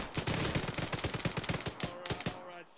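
Rapid bursts of automatic gunfire from an Arma 3 firefight, sharp repeated shots in quick rhythm, fairly close, tapering off near the end without speech.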